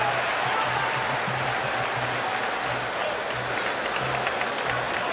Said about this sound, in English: Khamzat and Kamaru Usman go the distance here in front of an appreciative crowd in Abu Dhabi.